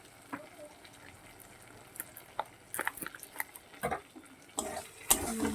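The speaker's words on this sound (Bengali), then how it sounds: "একসঙ্গে কষিয়ে নেব সবগুলো মশলা" Spices frying with tomato sauce in a pan for a Bombay duck fish curry: a soft sizzle sits under scattered scraping and clattering stirs that grow busier and louder toward the end, close and fairly quiet, with no talk.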